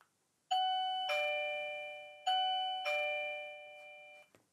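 A video doorbell chimes twice, each a clear two-tone ding-dong ringing out in a quiet room.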